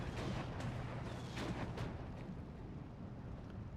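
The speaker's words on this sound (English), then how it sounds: "81 mortars, though, taking their chunk of flesh here" Battle din from Steel Division 2 with 81mm mortar fire, dense rumbling booms and sharp blasts running throughout at steady loudness, without any talking.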